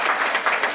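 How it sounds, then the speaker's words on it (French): Children's audience applauding after a Christmas play, a short burst of dense, steady clapping with no voices over it. "vous pouvez tous vous applaudir"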